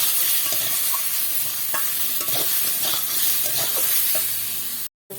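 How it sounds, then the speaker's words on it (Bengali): Bhola fish curry with ash gourd and turmeric is stirred in a frying pan, with continuous close sizzling and scraping spatula strokes until a brief drop to silence near the end. "হলুদ দিয়ে একটু নাড়াচাড়া করবো"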